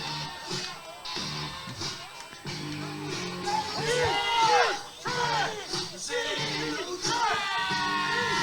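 A live wrestling crowd at Kim Tam Park roars and whoops in steady waves of cheering and shouting, with scattered yells rising above the mass of voices throughout.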